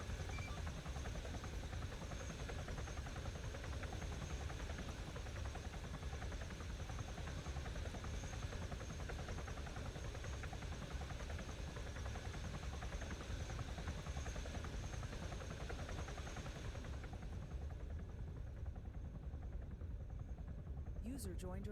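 Helicopter flight in a military video game, a continuous loud rotor and engine drone that holds steady throughout, then drops off sharply near the end.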